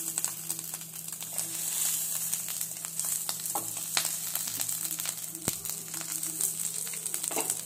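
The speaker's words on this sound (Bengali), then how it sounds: "প্যানে কিন্তু এই পাতুরি দুটো দেওয়ার পর আমি এক চামচ তেল কিন্তু এইভাবে ছড়িয়ে দেব" Hilsa paturi wrapped in banana leaf fries in oil in a pan, giving a steady close sizzle with scattered crackles and a few sharp pops, no voices over it.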